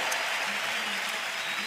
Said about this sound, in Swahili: Why don't we clap our hands to Jesus Christ of Nazareth?